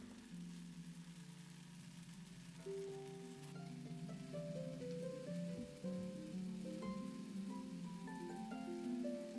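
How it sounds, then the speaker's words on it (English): Torn oyster mushrooms searing in a hot pan give a soft, continuous sizzle and crackle, faint and close, with light clatter on top and no talking. "I tear some oyster mushrooms straight into the pan and sear"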